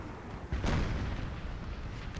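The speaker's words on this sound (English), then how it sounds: "We have artillery in the tree line as well." Artillery fire in Napoleon Total War, playing an American Civil War mod battle at Round Top: a single loud, heavy boom bursts out near the start and rolls into a rumbling, noisy battlefield din.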